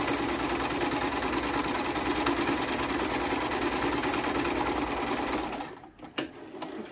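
A sewing machine runs steadily while stitching fabric for a sunglasses pouch, a continuous close mechanical whir that cuts off near the end, leaving brief clicks.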